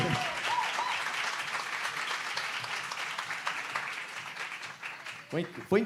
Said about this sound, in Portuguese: Vamos aplaudir esse exército do Senhor?